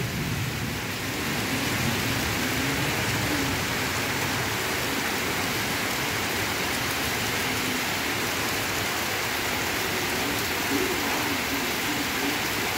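Heavy rain pouring down in Kolkata after a storm, a dense, constant roar of rainfall on surfaces, loud and unbroken throughout.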